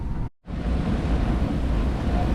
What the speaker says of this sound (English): we're seeing sustained winds of pretty much 20 to 25 at this point,